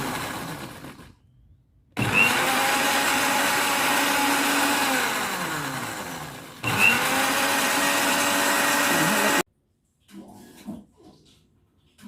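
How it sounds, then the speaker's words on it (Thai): An electric blender whirs as it grinds gotu kola herbs, running in two long loud bursts separated by a short pause, with quieter handling sounds between and after. "การปั่นสมุนไพรก็จะปั่นหยุดปั่นหยุดค่ะ ปั่นให้ละเอียดเลยนะคะ"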